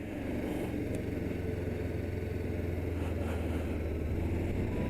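Motorcycle engine idling low in first gear after a downshift and clutch release, a steady, close, droning rumble that holds level with no clear revving.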